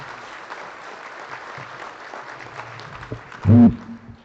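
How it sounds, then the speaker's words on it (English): A short burst of clapping and cheering from a crowd at a 4-H livestock judging awards event, faint at first and then swelling briefly near the end. "Let's give her a round of applause, please."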